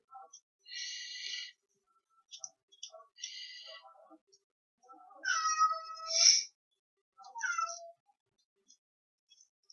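A cat meows repeatedly in a kitchen, several distinct calls of varying length spread over the clip, close and fairly clear, with one louder, higher cry near the middle.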